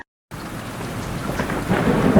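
Cartoon sound effect of a fierce village thunderstorm with very heavy rain: after a brief silence, a dense steady roar of downpour builds, with rumbling thunder swelling toward the end.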